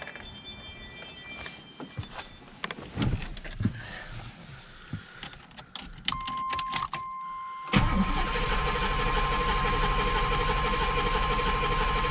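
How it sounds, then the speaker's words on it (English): Quiet clatter and clicks of handling, then a Camaro engine fitted with a swapped Quadrajet carburetor cranks briefly and catches, settling into a steady, louder idle with a faint electronic tone running over it. "Just cranked it and it started."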